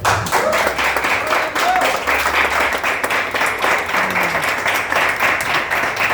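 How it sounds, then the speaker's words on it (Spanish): A church congregation applauds the Lord, with steady, rhythmic unison clapping throughout and voices and faint music running underneath. "Aplauda al Señor"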